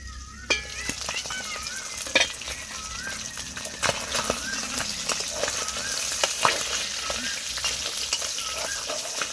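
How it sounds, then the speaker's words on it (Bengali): Tengra fish frying in hot oil in a lidded pan, with a dense sizzle broken by sharp, irregular pops and spattering crackles throughout, loud and close. "ট্যাংরা মাছ ভাজার সময় কিন্তু খুব ফটফট শব্দ হয়"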